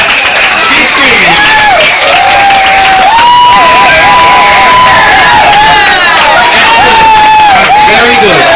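A church congregation screams and cheers loudly while running around the church, a dense, continuous crowd roar with high sustained shrieks and wavering voices over heavy babble.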